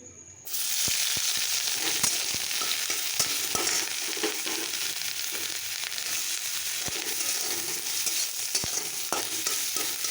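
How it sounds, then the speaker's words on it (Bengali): Ginger paste and green chilli sizzle steadily in hot oil in a pan, a bright continuous fry broken by scattered sharp clicks and scrapes of stirring, with no talking. "এরপরে আদা বাটা আর এই লঙ্কাটা দিয়ে দেবো তেলের মধ্যে।"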